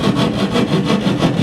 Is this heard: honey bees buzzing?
no